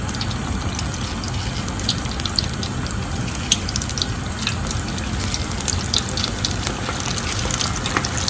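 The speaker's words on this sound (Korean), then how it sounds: "이제 180도씨에서 10초만 2차로 튀겨주세요" Oysters in a second deep-frying at 180°C give a dense, continuous bubbling hiss at steady volume, with small crackles and no voices.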